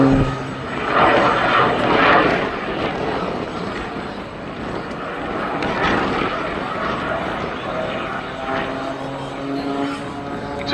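Jet Pitts jet-powered aerobatic biplane at the Duxford Summer Air Show pulling a maximum rate climbing spiral, a loud continuous jet roar that swells and fades slightly as it passes, steady throughout.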